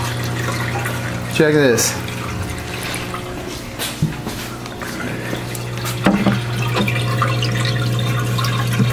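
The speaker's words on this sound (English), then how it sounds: "It's going to be a little noisier just because this you just got so much more volume pushing through into these filter socks." Water rushes steadily through filter socks in an aquarium sump, a continuous splashing flow with gurgles and drips, loud and close, while a person speaks briefly over it.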